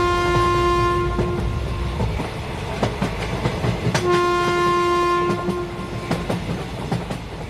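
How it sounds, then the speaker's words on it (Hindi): A passenger train runs along the rails at night, with steady rolling rumble and rhythmic clickety-clack of the wheels, and two long horn blasts sounding over it, fairly close and continuous. "ये ट्रेन रात के 2 बजे हमें चूहापुर पहुँचाएगी"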